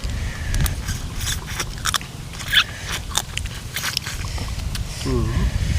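Crunchy biting and wet chewing of spicy pounded blue crab salad with fermented fish sauce, sharp cracks of shell at close range, while voices talk throughout.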